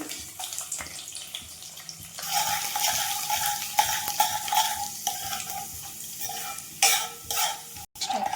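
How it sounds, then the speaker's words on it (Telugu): Tempering spices crackle and sizzle as they are dropped into hot oil on a stove. A soft hiss swells into a busier fry partway through, with occasional stirring scrapes and no talking. "వేడెక్కిన తర్వాత పోపు దినుసులు వేసుకోవాలి."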